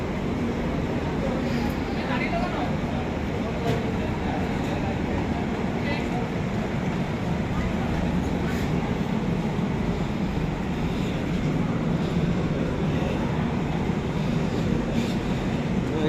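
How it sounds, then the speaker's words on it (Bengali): A train at Guwahati railway station in Assam, heard as a steady, loud rumble of rail cars and platform noise that lasts the whole stretch, with people's voices mixed into the din. "এটা নামলাম এই মাত্র নামলাম গুয়াহাটি স্টেশনে"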